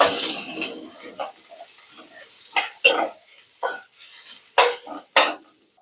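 Sliced onions being stirred in a pan with curry leaves for a Malayalam stuffed-potato dish, giving a string of sharp scraping and clinking knocks at an uneven rhythm, close by, with a soft sizzle in between.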